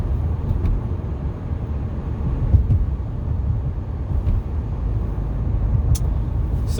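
A 2009 Audi A4 pulls under moderate acceleration on a night drive, heard from inside as a steady low engine and road drone with no one speaking.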